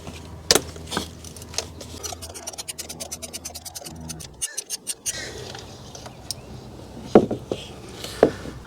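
Metal ratcheting and clicking from a 16mm spark plug socket breaking spark plugs loose in the plug tubes of a 2016 Ford Transit XLT350 engine, a rapid run of ticks followed by a few sharp, louder knocks, close up with no talking.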